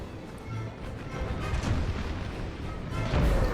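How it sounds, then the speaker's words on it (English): Artillery fire in the Total War American Civil War video game rumbles as a series of low, muffled booms over a continuous battle din, growing louder toward the end. "And although artillery comes in wildly, it is devastating when it hits"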